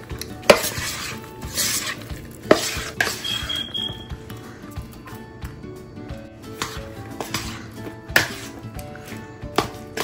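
Soybean chunks in marinade are tossed with tomato, capsicum and onion in a bowl, giving repeated close stirring and clinking strokes with a few sharper knocks against the dish, with no speech.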